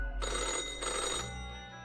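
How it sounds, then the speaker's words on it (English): An old-fashioned telephone in the video game Death and Taxes rings loudly with an ear-piercing metallic clatter: two bright bursts of rapid bell-hammering, then a fading ring. "The old-fashioned phone suddenly rings with an ear-piercing metallic clatter."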